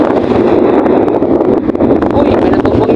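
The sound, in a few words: strong wind at seaside sea wall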